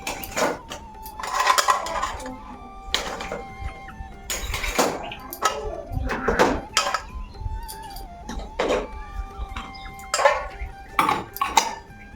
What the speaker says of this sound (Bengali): এই হাতা খুঁটিগুলো এদিকে এক্সট্রা করে রাখি চামচ চামচগুলো